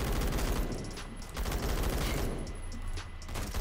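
An MG36 machine gun fires in rapid bursts in the Phantom Forces shooter game, dense crackling automatic gunfire repeating across the clip with short gaps, loud and close with no talking.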